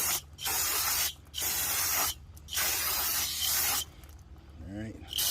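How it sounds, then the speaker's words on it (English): Several long hissing bursts of brake cleaner spray on new brake rotors and pads of a Mercedes-Benz S430, each a second or so, separated by short pauses, loud and close. "Gonna catch and spray these down."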